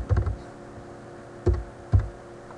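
A computer keyboard is typed on in a few short bursts, with a quick cluster of clicks at the start and then two isolated keystrokes, close and clear against a quiet background.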